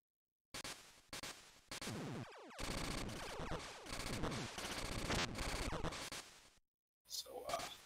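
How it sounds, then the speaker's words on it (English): Harsh, digitized gunfire in the Metal Gear: Ghost Babel game, bursts of rapid shots in blocks separated by abrupt silent gaps, loud and crunchy with static-like texture. "And there's sounds of gunfire."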